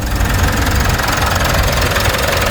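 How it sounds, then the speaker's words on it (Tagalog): Steady idle of a 2016 Mitsubishi Montero engine fitted with a new drive belt, heard up close as an even mechanical hum and low vibration throughout, with no belt noise and no talking. "Napaka-smooth yung andar. So wala siyang tunog na sa belt no."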